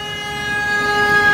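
A vehicle horn sounds in a single sustained blast on a German street, loud and steady and growing slightly stronger toward the end.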